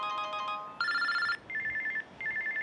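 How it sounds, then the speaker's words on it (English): Several cell phone ringtones overlap and alternate, one chiming melody after another in quick succession, each a bright repeating electronic tone at moderate volume with no voices. "The sound of competing ringtones fill the air."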